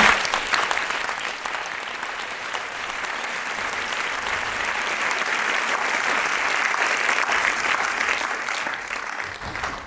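An audience at an evening talk claps steadily for two guests, a dense, sustained wash of applause that starts full and holds evenly throughout, with no voices standing out.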